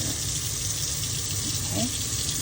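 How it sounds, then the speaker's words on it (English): Water runs steadily from a tap into an egg cooker, a continuous close hiss and splash lasting throughout under a low background hum. "Fill that up with water."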